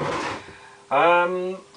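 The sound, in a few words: drawer sliding open or closed, slightly sticking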